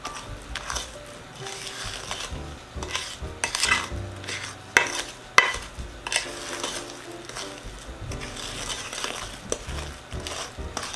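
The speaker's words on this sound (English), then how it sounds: "And now I have to stir this until it's just moistened." Utensil scraping and clinking against a bowl as thick orange cranberry nut bread batter is stirred, a steady busy rhythm of soft knocks and scrapes at close range.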